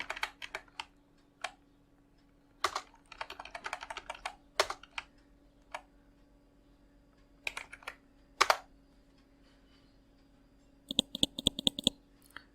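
A computer keyboard clicks with scattered keystrokes and short bursts of typing, then a rapid run of sharp key presses near the end. Each stroke is crisp and close against a quiet background hum.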